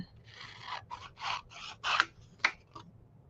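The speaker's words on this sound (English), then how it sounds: "So let's just cut her out." Scissors snip a picture out of a small gift book in a series of close, crisp cuts, several steady strokes followed by a few sharper, quicker snips near the end.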